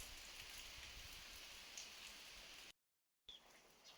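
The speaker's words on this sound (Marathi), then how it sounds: "पाऊस जोरात सुरू झालाय." Heavy rain falls steadily beside a guava orchard near a village, a dense even hiss that cuts out briefly to silence before resuming.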